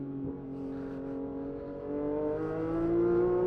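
A loud Porsche 991.2 GT3 RS engine drones and climbs in pitch as it accelerates on a track, heard from inside the car with a steady, harmonic roar.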